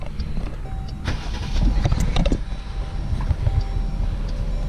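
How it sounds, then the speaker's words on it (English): A 2018 Jeep Grand Cherokee with proximity start cranks and fires, a short burst of starter noise near the middle settling into a steady low idle, recorded close by with no talking. "We'll go around to the vehicle here, just to make sure it starts."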